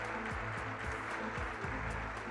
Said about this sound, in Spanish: vamos a darle un aplauso muy grande.